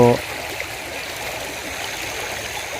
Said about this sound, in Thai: แม่น้ำเมืองคลอง หรือว่าคลองน้ำเมืองคลองให้ดูนะครับ ก็จะมีน้ำไหล ทั้งปีครับ